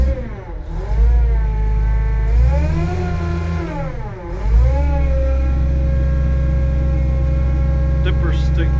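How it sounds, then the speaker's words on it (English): A Mitsubishi excavator's diesel engine, headed for scrap, is revved up and down twice, its pitch rising and dipping, then holds at a steady high throttle. It is loud and close, with a brief faint squeal near the end. "Might as well go rev it a couple times."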